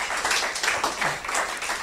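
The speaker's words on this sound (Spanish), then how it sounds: "dele fuerte el aplauso a Dios" Congregation at a church meeting applauding, a dense, steady wash of many hands clapping that swells and dips without pause.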